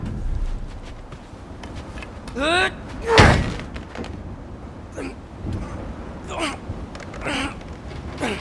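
A frozen door is forced open in God of War Ragnarok: heavy straining thuds and a loud cracking slam midway, with grunts and gasps between scattered impacts and occasional footsteps.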